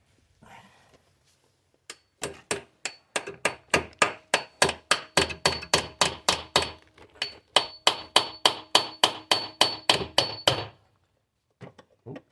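A hammer strikes repeatedly under a 2008 Ford Fusion 3L V6 during an oil pan gasket replacement, a long run of sharp, evenly spaced metallic blows, loud and close, after a brief pause.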